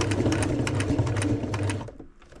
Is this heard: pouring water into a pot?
no